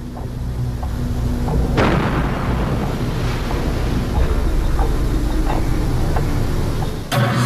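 Bombs explode in a World War II documentary: a sharp, heavy blast hits early, followed by a long rumbling roar with scattered smaller bangs, and a second sudden blast lands near the end.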